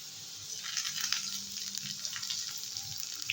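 Ginger and cumin paste sizzling in hot oil in a pan alongside fried eggplant and potato, a soft continuous crackle and hiss heard close up with no voices.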